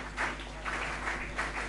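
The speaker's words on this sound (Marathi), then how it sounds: "टाळ्या वाजवल्यात तरी हरकत नाही" Applause from an audience at a college foundation day ceremony honouring a student, Kajal Patil, rolling clapping in uneven waves with a low steady hum underneath and no talking.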